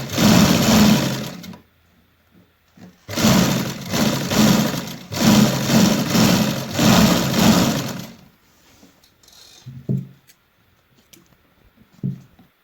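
A sewing machine stitches a kurti placket in several bursts, one short run followed by a long stretch of rapid, steady needle clatter, then quiet with a few soft clicks and fabric handling sounds.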